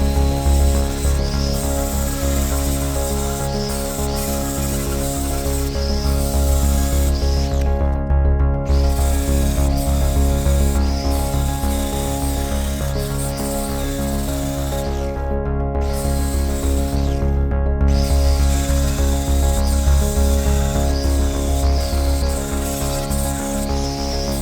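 An angle grinder scours metal to clear a weld area, making a loud, harsh, continuous grinding hiss that drops out briefly three times before resuming, with no speech.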